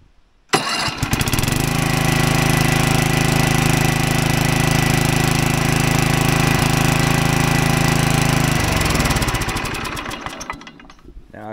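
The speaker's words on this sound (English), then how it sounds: "she's got a working self-propelled mower that's going to make it much easier for her to mow the property up here" An old Toro Keylectric self-propelled lawn mower, converted to a modern battery, starts abruptly and runs at a loud steady engine drone for about eight seconds, then winds down and stops.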